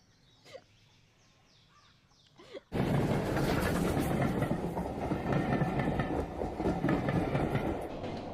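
A train rolls past on railway tracks, starting abruptly at close range and staying loud and steady with rumbling and clattering wheels after a quiet opening with a few faint bird calls.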